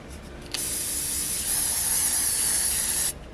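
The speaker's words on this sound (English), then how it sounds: "And I'm just spraying it with hairspray." Hairspray hisses from an aerosol can in one continuous spray of about two and a half seconds onto a wet, blocked crochet piece, close and fairly loud, with no talking.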